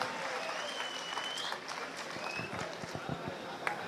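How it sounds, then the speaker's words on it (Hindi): A rally crowd at a Kushwaha community gathering in Bhopal breaks into dense, sustained applause for an advocate taking the stage. The clapping holds steady and loud throughout, with a few scattered voices mixed in. "जोरदार तालियों के साथ अभिवादन करें"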